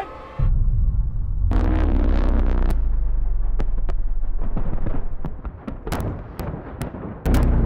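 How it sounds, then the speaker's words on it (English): A huge film-shoot explosion for the James Bond movie Spectre, billed as the largest in movie history: a sudden deep boom swelling into a long, loud rolling roar, then crackling debris and secondary pops as it fades. "Largest explosion in the history of movies."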